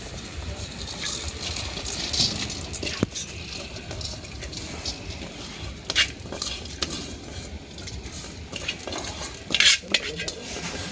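Fried dal being stirred into spice masala in a pot for khichuri, with repeated metal spoon scrapes and clinks against the pot over a soft sizzle, close and fairly steady.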